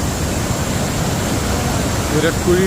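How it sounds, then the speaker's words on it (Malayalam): Urakuzhi waterfall at full flow, a loud, steady broadband roar of crashing water close by, with a voice briefly speaking near the end. "വാട്ടർഫാൾസ് വാട്ടർഫാൾസാണ്"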